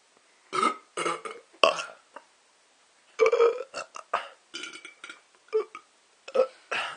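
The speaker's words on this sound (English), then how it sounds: "All the girls are burping." A rapid series of about a dozen close burps, some short and some drawn out, comes in uneven bursts with brief quiet gaps between them.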